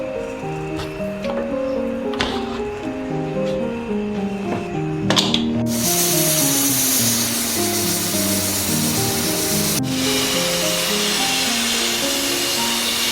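A pressure cooker with its weight on, cooking mash and chana dal, sends out a loud steady hiss of steam that starts suddenly and continues unbroken over a musical background.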